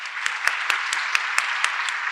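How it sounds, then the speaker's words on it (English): An audience at a school district teaching-chairs event applauds a high school orchestra director, a steady wash of clapping with a few sharper, louder claps standing out, moderately close, with no talking. "Let's give him a round of applause."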